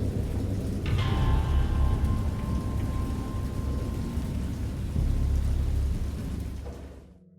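Heavy rain pours steadily while deep thunder rolls and rumbles beneath it, loud and close throughout, with no voices, before the storm abruptly cuts to silence at the end.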